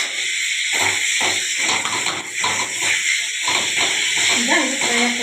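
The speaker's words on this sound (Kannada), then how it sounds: "ಈಗ ಇದು ಫ್ರೈ ಆಗ್ತಾ ಇದೆಯಲ್ಲ" Chopped tomatoes sizzle and hiss steadily in hot oil in a pan while someone talks over the cooking throughout.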